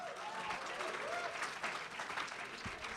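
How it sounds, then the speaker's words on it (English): Audience at a nanotechnology innovation competition claps for the first five presenting teams, a fairly quiet, steady patter of hands with faint voices murmuring underneath. "Round of applause for the first 5."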